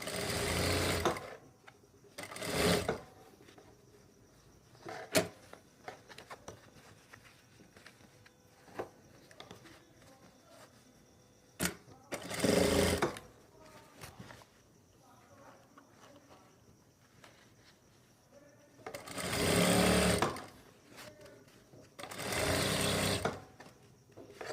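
A sewing machine stitches just below the elastic on palazzo pants in several loud, fast bursts of whirring. Long quiet gaps between the bursts carry soft handling noises and someone speaking.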